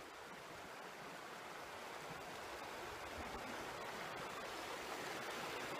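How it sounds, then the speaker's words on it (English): Glacial runoff rushes down an alpine creek in Banff National Park, a steady broadband roar of water that stays constant and close throughout. "these are alpine rivers, alpine creeks, and this is glacial runoff"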